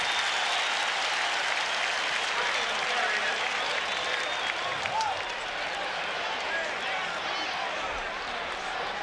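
A big stadium crowd at a 1985 Washington Redskins vs Chicago Bears football game roars loudly and steadily after a hard hit, a dense continuous wash of cheering that eases slightly toward the end.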